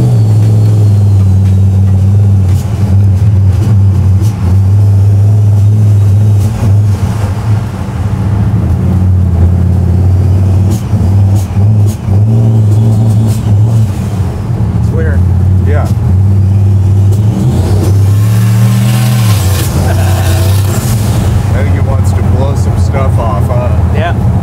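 Turbocharged 760-horsepower Chevy C10 pro touring truck pulling away under light throttle, its deep exhaust rumble steady and loud close by, briefly rising in pitch, with voices talking over it.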